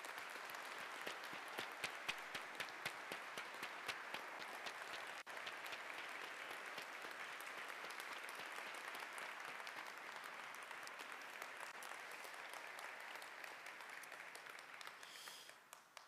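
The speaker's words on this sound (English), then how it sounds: "I think they deserve a round of applause" At an Easter Sunday church service, the congregation gives the choir a long round of applause, heard faintly and at a distance, with individual claps distinct at the start and end.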